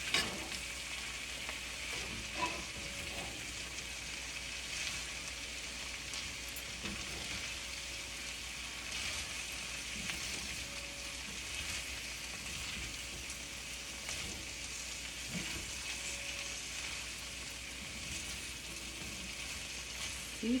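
Cabbage and potato sabzi sizzles steadily in a pan while being stirred and mixed, a constant crackling fry with occasional scraping, close and continuous with no talking.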